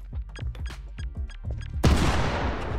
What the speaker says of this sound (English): Yeah, grenades are different.